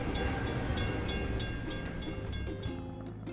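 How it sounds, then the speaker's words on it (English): Train passing a closed level crossing in a mobile vehicle game, a steady close rumble of rolling wagons with rhythmic clicking, loud throughout and easing slightly toward the end. "We have to wait for the train to pass."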